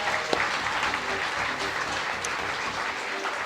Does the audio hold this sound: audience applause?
yes